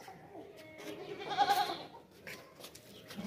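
A large pure desi Makhi Cheeni dairy goat bleats once, a fairly faint wavering cry amid goat-market background noise and distant voices.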